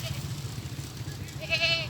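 Goats being raised at a home farm bleat, with a single wavering, fairly clear bleat near the end over a low, murmuring background rumble.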